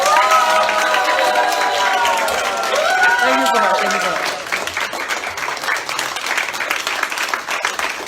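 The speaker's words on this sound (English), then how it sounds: "give yourself a huge round of applause" Audience applause and whooping cheers fill a marketing, branding and sales masterclass, loud and steady at first, then thinning into scattered clapping as a speaker's voice comes through over it.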